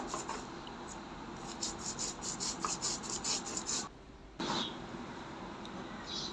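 Spices, including black cumin, coriander leaves and chili, are ground on a stone slab, a steady gritty rubbing and scraping in quick back-and-forth strokes, close and continuous with a short pause near the end.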